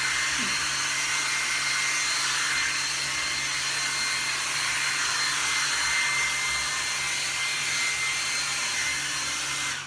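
A hair dryer roars steadily at full power throughout, a loud, continuous airy whoosh with no pauses and no voices.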